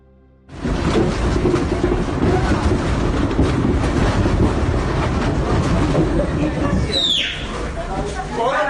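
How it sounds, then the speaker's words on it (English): A subway car in Caracas, Venezuela, derails, bursting in with a loud, sudden roar of grinding and rumbling that persists heavily, with a sharp screech near the end as the violent noise eases slightly. "This footage from Caracas, Venezuela shows people inside a train as it's actually in the process of derailing"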